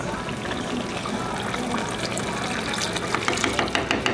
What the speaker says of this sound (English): it looks like it's ready for me to put water and close the pan